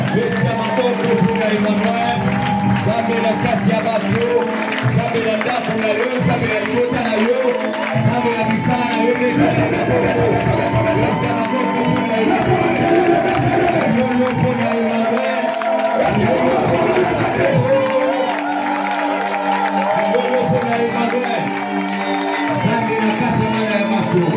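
A church congregation cheers and acclaims Emmanuel, a loud, sustained crowd roar with shouts and whoops, mixed with voices over the whole stretch.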